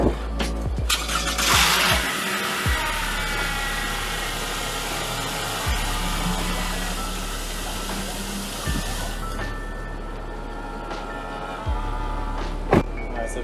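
A 2012-2014 Toyota Camry engine cranks and catches, then settles into a steady idle with a few faint clicks and thumps from the car, close and alone without talk.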